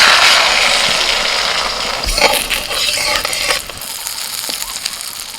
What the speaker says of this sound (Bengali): কড়াই আগেই তেল দিয়ে দিয়েছিলাম তেল গরম হয়ে গেছে এবারে ডিম ফেটানোটা দিয়ে দিচ্ছি